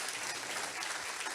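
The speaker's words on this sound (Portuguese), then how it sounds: "Aplaude Ele em nome de Jesus" Applause from a congregation at a church service, a dense continuous patter of many hands clapping steadily throughout with no voices on top.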